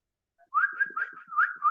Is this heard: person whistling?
yes